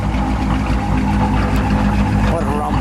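A supercharged 1957 Ford Fairlane 500 Skyliner F-code engine idles with a deep, steady rumble close by while someone talks over it.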